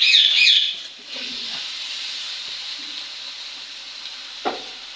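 Malabar spinach stir-fries in spiced oil, giving a steady, moderately faint sizzling hiss after a brief chirp at the start, with a few soft stirring knocks.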